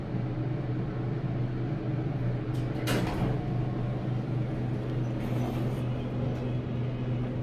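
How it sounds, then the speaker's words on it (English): Gilbert freight elevator doors on a 1987 Montgomery traction elevator at a Nordstrom store, a steady low machine hum throughout with a sliding door clatter and thump near the middle and a fainter rumble of movement later. "The freighter has Gilbert doors."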